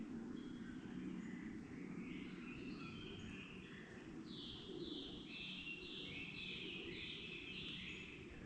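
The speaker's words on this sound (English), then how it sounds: "The birds are really noisy this morning." Quiet morning birdsong on Kauai: several birds give overlapping whistled and cooing calls, some rising and falling in repeated phrases, over a steady background wash. The calls are moderately distant and fairly faint.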